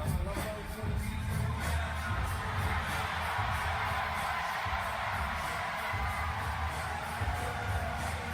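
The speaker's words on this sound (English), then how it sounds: "This crowd is about to let us hear it." A boxing-event crowd at Creator Clash 2022 cheers and roars in a steady, dense wash of noise from a large arena audience, loud and continuous throughout.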